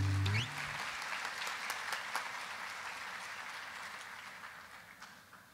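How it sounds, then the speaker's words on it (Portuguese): A church congregation applauds joyfully, with steady clapping from many hands that fades slowly over several seconds, heard at a moderate distance. "Vamos aplaudi-lo então, queridos, com alegria"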